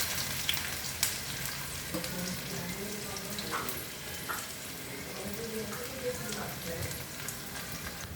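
Onion frying in a pan for sambar gives a steady, soft sizzle with occasional stirring clicks and scrapes, and faint voices murmur in the background.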